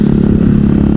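A motorcycle is ridden on a night cruise with a loud, steady engine drone and a strong low hum. Nothing else breaks through the engine noise.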